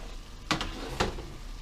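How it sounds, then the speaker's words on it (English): Chopped celery, carrot, onion, garlic and fresh parsley drop into a hot pressure cooker over seafood bits, giving two or three quick soft thuds and a rustle above a steady sizzling hiss. "I'm going to add the chopped up celery, carrot, onions, garlic, and fresh parsley."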